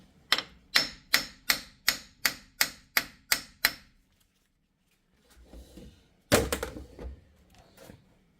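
Light hammer taps on a seized wheel hub and axle ring out as ten evenly spaced metallic strikes at a steady rhythm, followed after a pause by softer shuffling and one louder clanking knock with rattling.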